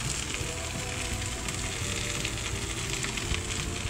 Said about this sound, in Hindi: अब हम सबको मिक्स करते हुए भिंडी हल्की आंच पर थोड़े से और फ्राई कर लेंगे